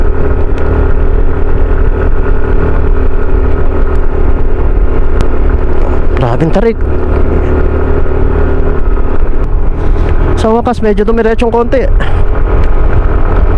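An automatic motorcycle labors up a steep, rough new road toward Sitio Dueg in San Clemente, Tarlac, its engine droning steadily and loudly close by throughout, while the rider talks over it and rain begins.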